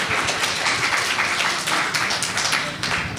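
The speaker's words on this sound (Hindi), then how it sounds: "ताली बजाइए पेरेंट्स के लिए।" Parents applauding at a Brahma Kumaris summer camp in Jankipuram, Lucknow: a steady, dense wash of hand claps from a group, fairly loud and sustained throughout with no talking.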